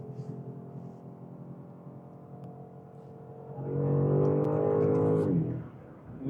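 BMW M5 engine rising in pitch as it accelerates after a downshift, a steady drone that swells loudly midway, holds briefly, then drops away, heard from inside the car with no talk.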